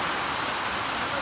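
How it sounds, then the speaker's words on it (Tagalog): Heavy rain pours steadily on an outing in Liboganon, a dense continuous wash of drops that stays loud and unbroken throughout. "kusog kayong ulan"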